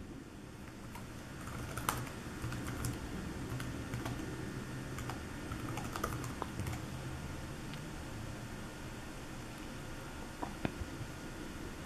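Typing on the keyboard of a MAG1 8.9-inch mini-laptop running Linux, a quiet, soft patter of keystrokes under steady background hiss, with a few sharper taps scattered through and no talking.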